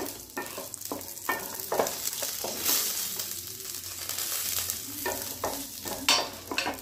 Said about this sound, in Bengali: কাজু কিশমিশটা খুব ভালোভাবে ভাজা হয়ে গেছে।